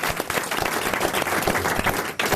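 Studio audience applause for impressionist Marc-Antoine Lebré on a French radio talk show, a dense, steady burst of clapping from a crowd that fades slightly at the end.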